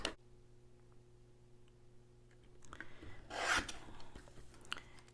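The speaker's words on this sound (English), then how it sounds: "I'm going to go ahead and trim that one off so that I could use it for a later project" Patterned cardstock paper for card making being trimmed: quiet rasping slide of a paper trimmer blade, a soft scraping swell midway, with light taps and clicks, faint and close.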